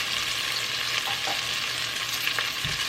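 Tomato paste goes into a pan of Caribbean fish and meat sauce, which sizzles and fries steadily throughout, with a soft scrape and a brief low thump near the end.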